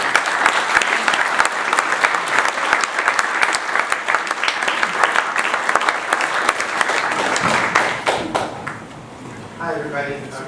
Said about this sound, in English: a wonderful round of applause for Ian Rowan and Martin Nweeia and Chris Clark